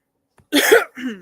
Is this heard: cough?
yes